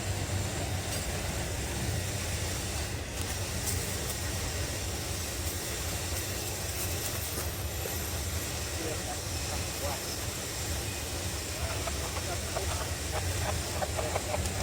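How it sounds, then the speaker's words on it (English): A Norfolk Southern freight train, number 294, passing at Berea, a loud, continuous rumble and rattle of rolling cars with hissing and metallic squeals, with a voice talking over it. "Not only do we have the 294 going by"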